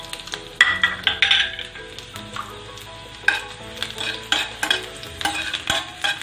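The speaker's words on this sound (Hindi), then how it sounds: "ब्राउन होने तक थोड़ा भून देते हैं इसे।" Thin garlic flakes fry in oil in a pan for tomato shorba, a close bubbling sizzle punctuated by repeated loud scraping strokes of a spoon stirring them, alone with no talk.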